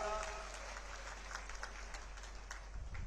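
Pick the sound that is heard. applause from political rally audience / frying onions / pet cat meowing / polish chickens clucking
applause from political rally audience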